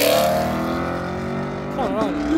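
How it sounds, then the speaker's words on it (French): A Porsche sports car arrives at a supercar meet, its engine note droning steadily and then rising in a quick rev as it accelerates close by, with crowd chatter underneath. "on a de la Porsche encore qui arrive."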